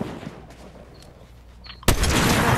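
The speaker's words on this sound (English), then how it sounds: "I just headshot that person and I took them out" Gunfire in a PlayStation shooter video game breaks out suddenly after a quiet stretch with faint sounds, a loud, dense burst of shots that continues to the end.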